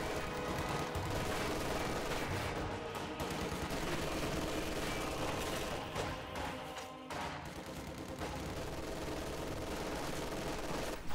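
In a tactical war video game, sustained machine gun fire and scattered rifle shots crackle on a battlefield where a second machine gun guards the flank, forming a steady, dense barrage with brief lulls.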